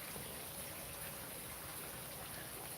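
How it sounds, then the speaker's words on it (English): Light rain falls steadily outdoors near a water fountain, a soft continuous wash of drops heard alone with no voices. "it's actually raining a little bit right now"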